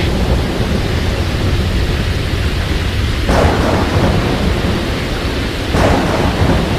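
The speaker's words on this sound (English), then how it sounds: "The storm continues without mercy for an grueling hour, the raging winds and tumultuous waves battering my ship without reprieve." Heavy rain pours steadily in a thunderstorm sound effect for a pirate story, with broad constant hiss and two deep rolls of thunder swelling partway through, loud and close with no voices.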